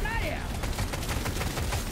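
Rapid, dense bursts of gunfire from an engineer's gun in Deep Rock Galactic: Survivor rattle continuously, loud and close, with a brief swooping tone at the start.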